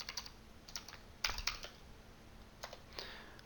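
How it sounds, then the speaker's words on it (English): Pascal code is typed on a computer keyboard: sparse, quiet clusters of light keystrokes with short gaps, alone against a faint background hiss. "I'm going to type in an else statement"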